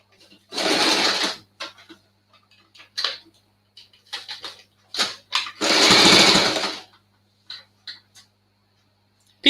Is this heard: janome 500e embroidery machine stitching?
yes